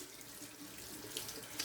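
Tap water runs steadily into a bathroom sink being rinsed clean of hair after a straight-razor shave, a continuous close splashing wash with a couple of brighter spatters near the end.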